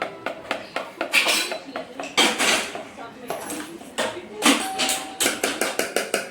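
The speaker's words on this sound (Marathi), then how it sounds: "हे बॅटर मध्ये छान मीठ टाकून व्यवस्थित फेटून घ्यायचं" Idli batter with salt is beaten in a bowl, producing quick, uneven clinks and taps of a utensil against the vessel in bursts, close and fairly loud.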